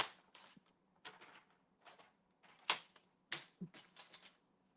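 Masking tape cut or torn from a wide roll, a series of sharp, separate snips and crackles with quiet gaps between them, close and clear.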